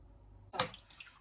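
A tablespoon of water poured into a spring-roll sauce makes a brief, soft splash and trickle after a quiet moment, close by and alone.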